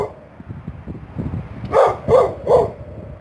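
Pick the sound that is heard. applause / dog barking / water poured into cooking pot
dog barking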